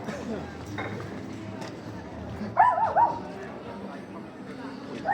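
A dog barks three quick times partway through an outdoor walk, loud against background noise, with people talking nearby.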